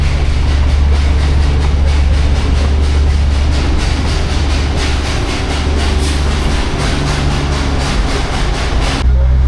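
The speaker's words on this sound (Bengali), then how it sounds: "আর এই যাচ্ছে টয় ট্রেন ঘুম স্টেশনের দিকে।" The Darjeeling toy train heads toward Ghum station with a loud, continuous rumble and a steady rhythmic rattle of wheels close by, running unbroken throughout.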